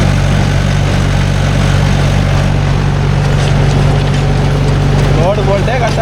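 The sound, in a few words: Mahindra 415 DI tractor engine running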